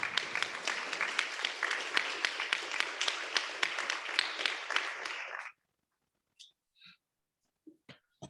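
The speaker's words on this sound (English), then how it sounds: "Let's give him a round of applause." An audience applauds after an academic physics lecture, a lively spatter of clapping for about five seconds that stops abruptly, leaving near silence with a few scattered small sounds.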